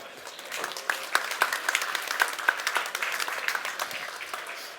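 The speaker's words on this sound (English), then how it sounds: "Give them a big round of applause." Audience clapping at a tech summit lunch talk session, a moderately sized crowd with distinct individual claps audible in an uneven, lively rhythm, steady throughout.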